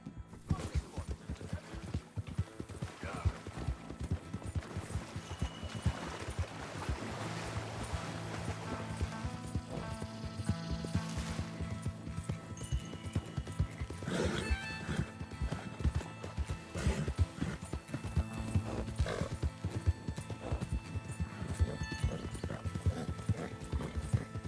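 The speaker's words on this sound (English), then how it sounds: "I'm borrowing your horse." Hooves clip-clop in a steady rhythm throughout, with a horse whinnying and snorting over the footfalls, from Red Dead Redemption 2.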